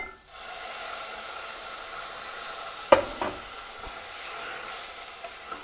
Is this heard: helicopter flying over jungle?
no